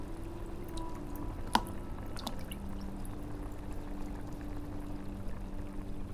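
Seaweed-like algae drops into a simmering witch's cauldron outdoors in a forest with a single quick plop, over a soft, continuous trickle of liquid.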